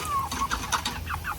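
Cornish Cross meat chickens clucking inside a coop, several close, quick clucks and short squawky calls in a busy burst with no talking.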